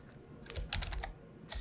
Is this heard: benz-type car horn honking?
no